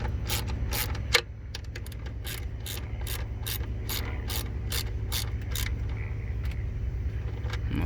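A ratchet turns a 5/16 socket to tighten the screws on a plastic evap purge valve on a 2013 Ford Explorer, giving a rapid run of sharp, evenly spaced clicks close by over a low steady hum.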